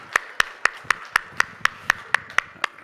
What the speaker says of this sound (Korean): 하나님께 다시 한번 감사와 영광의 박수를 드리겠습니다